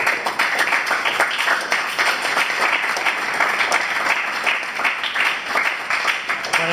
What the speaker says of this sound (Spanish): yo les pido un aplauso para ese ayudante.